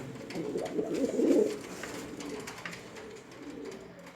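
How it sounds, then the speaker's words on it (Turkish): A pigeon coos in low, throaty rolling phrases, loudest near the start and then softer and intermittent, with a steady faint background hum. "Öt lan Arap be, öt be."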